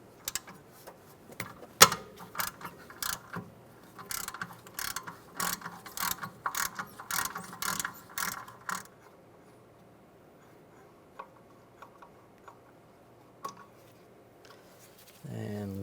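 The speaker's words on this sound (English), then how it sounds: "We're going to remove the brake caliper bolts. We're going to use a T40 socket." Ratchet with a T40 socket loosening brake caliper bolts on a 2006-2009 Mercedes-Benz E350, rapid close clicking bursts early on, then quieter mechanical handling with a voice speaking briefly.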